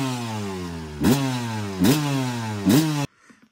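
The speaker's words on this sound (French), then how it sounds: "Bon, la moto a démarré, mais non, on va essayer de la régler." A vintage Honda CR250 enduro motorcycle, poorly tuned with wrong carburettor setting and fuel, runs close by with a rough two-stroke idle, three sharp revs blipping at regular intervals before it cuts out abruptly into near silence.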